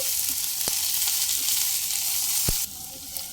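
Chopped onions fry lightly in a pan, giving a close, even sizzle with two sharp clicks of a spatula against the pan before the hiss drops off slightly near the end.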